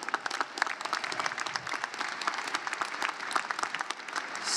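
Audience applause at a college commencement ceremony, steady dense clapping from many hands at moderate distance, sustained throughout without a break and fairly soft overall.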